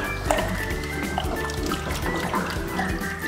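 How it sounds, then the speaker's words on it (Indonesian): Homemade ice cream mixture is stirred in a bowl, giving a continuous wet sloshing and swishing with small clinks, close and moderately loud, with no voice over it. "Setelah larut semua, kita masukkan dan kita aduk kembali."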